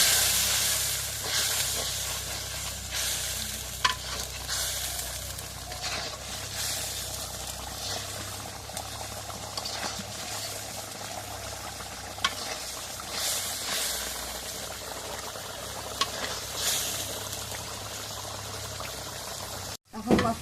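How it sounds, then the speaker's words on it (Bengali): Spice masala stirred as it fries in a pan with salt for a fish-head curry, a steady boiling sizzle with faint scraping stirs throughout, close and moderately loud, with no talk. "সব কিছু দেওয়া শেষ, এখন নাড়া দিই"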